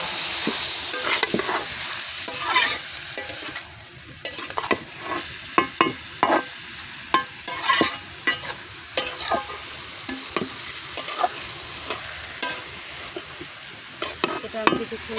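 Bottle gourd curry with dried fish cooks in a pan while a spoon stirs it, producing repeated close scrapes and clacks over a soft continuous frying sizzle.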